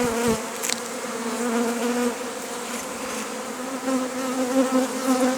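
A dense, steady buzzing of many honeybees swarming close by as they are shaken into a bucket, a continuous droning hum with no pauses.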